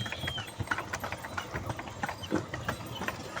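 A horse clip-clops steadily along a road, pulling a passenger horse cart on a ride. Quick, even hoofbeats sound up close over a rumbling street background, with faint voices nearby.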